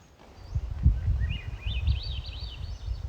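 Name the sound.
Swainson's thrush song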